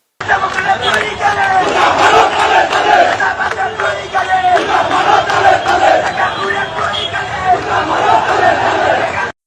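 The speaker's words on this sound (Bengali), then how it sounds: "ওনার সমর্থকেরা রাস্তা অবরোধ করে বিক্ষোভ করতেছে দেখেন দেখেছেন স্লোগান দিচ্ছে" Supporters of a Bangladeshi political candidate block a road in protest, a large crowd chanting slogans together with loud, continuous rhythmic shouting and babble throughout.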